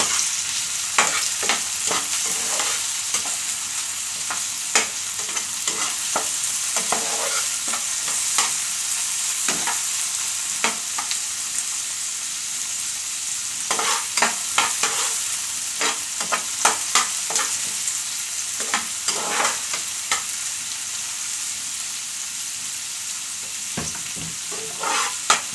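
Chopped tomatoes sizzling and frying in a pan as a spatula stirs them, scraping and clacking in irregular bursts over a steady hiss, for a Bicolano tilapia picadillo dish.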